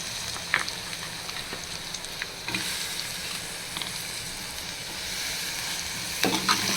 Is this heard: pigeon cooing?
no